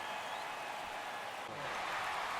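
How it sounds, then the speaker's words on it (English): A crowd roars in a baseball stadium in MLB The Show 24, a broad continuous wash of cheering that holds loud throughout the short moment without clear commentary over it. "the crowd goes wild"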